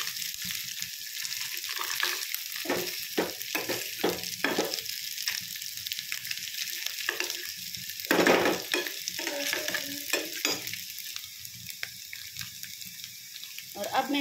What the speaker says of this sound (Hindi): तो तेल गरम हो चुका है, हरी मिर्ची मैंने डाल दी, अब मैं डालूंगी आलू